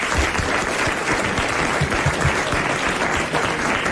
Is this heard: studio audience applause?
yes